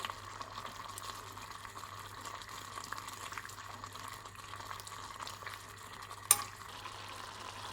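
Chemmeen masala, a prawn masala with chopped coriander added, is stirred in a pan. It gives a soft, low sizzle and bubbling, with one sharp utensil clink against the pan near the end.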